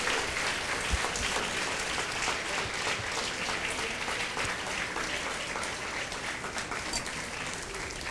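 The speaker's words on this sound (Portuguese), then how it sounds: "Dê um aplauso ao Senhor." A church congregation applauds during a service, a steady wall of many hands clapping that carries on evenly throughout with no speech over it.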